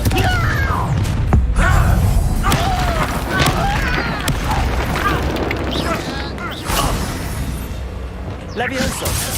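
Confringo blasting spells burst and crack repeatedly in Hogwarts Legacy, a string of loud booms and shattering pops through a busy fight while a voice shouts over the action.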